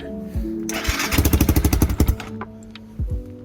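A Lifan ZS175FMN motorcycle engine is choked and cranked, catching with a burst of rapid, loud pulsing firing for about a second before dropping to a quieter, rougher idle with short bumps.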